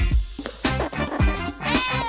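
Cats meow in quick succession, several overlapping loud, close cries with a tonal, drawn-out quality.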